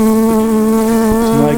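Honey bees buzz around an opened hive during a frame inspection, with a loud close steady hum and a clear droning pitch as individual bees hover near.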